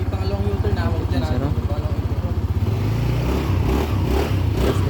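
Motorcycle engine idling, then revving, loud and close, in a steady throbbing pulse that rises into a rougher roar, with people talking over it.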